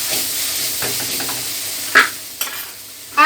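Pointed gourd frying in a pan as chilli, cumin and coriander powder are stirred in, a steady sizzle under the spatula's scraping, with a few sharp metallic clinks against the pan.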